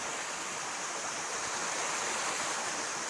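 A waterfall rushes in a steady, even roar, moderately distant and continuous with no voices.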